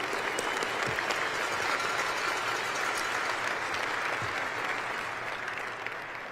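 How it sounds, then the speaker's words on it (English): Sustained applause from a large audience at a military awards ceremony, a dense even patter of many hands that fades slightly toward the end. "So another round of applause for all of our award winners."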